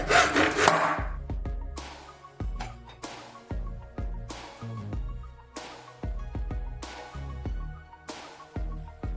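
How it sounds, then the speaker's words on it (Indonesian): A hand saw cuts through wood along a strip of tape, its strokes steady and rhythmic, about nine of them, each a close, rasping pass with a short pause before the next. "Gergaji tepat di sepanjang tepi tape."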